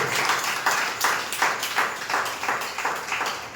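A church congregation at a Sunday service claps in rhythmic unison, steady regular beats repeating about every half second, moderately loud with room echo and no talk.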